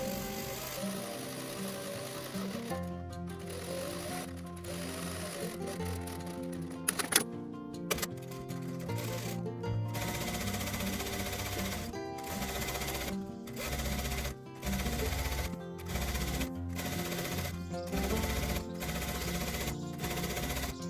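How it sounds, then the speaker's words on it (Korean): A sewing machine runs in long steady bursts while stitching a decorative double seam on a wrap dress, with brief pauses between runs and no talking. "저는 두 줄 박음질 했습니다."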